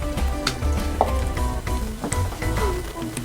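A spoon scrapes and clatters in a pan while tapioca and prawns are mixed together, giving irregular close scraping and knocking strokes.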